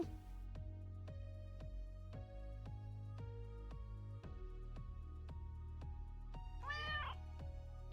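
A cat gives a single short, rising-and-falling meow near the end, heard over steady, rhythmic background music.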